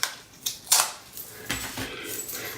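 Painter's tape is ripped off the roll in several short, crisp tearing bursts, close and fairly loud, with small handling rustles between them and no voices.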